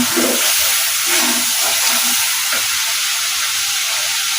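Spice masala sizzles in a pan before chicken is added, a steady, loud frying hiss running unbroken from start to finish.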